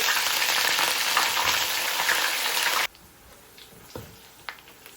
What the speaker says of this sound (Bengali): নারকেলটা কিছুক্ষণ ভেজে নেবো